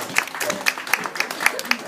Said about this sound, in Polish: brawa wielkie dla naszych